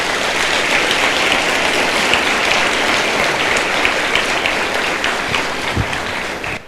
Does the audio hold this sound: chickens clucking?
no